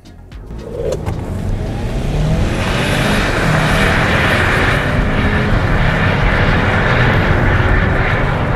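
A 2021 Kia Sorento SX accelerating hard, its engine rising from a short quiet start into a loud, sustained roar with climbing tone and wind and road noise, heard from inside the cabin with no talking.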